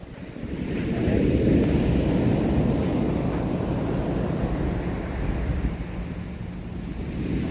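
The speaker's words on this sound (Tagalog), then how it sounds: "Wow, grabe yung alon dito. Ang lakas." Strong ocean waves crashing continuously at the Bangui windmill site in Ilocos Norte, a loud, steady roar of surf mixed with gusting wind buffeting the microphone, no voices.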